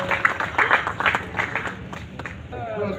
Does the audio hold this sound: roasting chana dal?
no